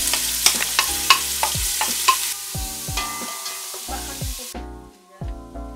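Onion hits hot oil in the same pot used to fry chicken, crackling and sizzling under repeated clanks and scrapes of a spoon against the pot, with the frying hiss dropping lower toward the end.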